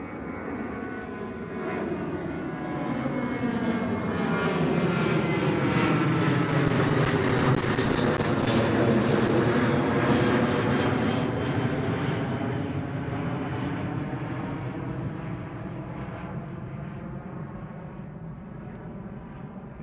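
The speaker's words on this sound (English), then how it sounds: "That was a Transavia 737." A Transavia Boeing 737 jet passes at Schiphol, its engine roar swelling from the start to a loud peak mid-pass and then slowly fading, with shifting tonal sweeps as it goes by, no voices.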